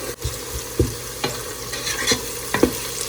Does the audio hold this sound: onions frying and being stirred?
yes